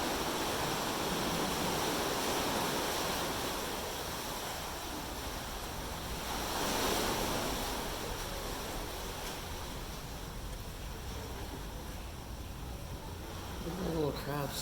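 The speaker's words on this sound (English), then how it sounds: "So we are being bombarded by waves right now, which is kind of cool to look at from the beginning of the cave." Ocean waves crashing at the mouth of a seaside cave make a continuous, loud roar of surf that swells and rushes without a break, with faint voices partly buried under it.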